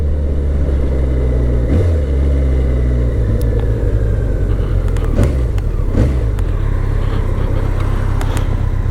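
BMW K1100LT touring motorcycle riding in second gear, a loud steady engine drone with road and wind rumble, heard close from the rider's position with a few brief knocks over it.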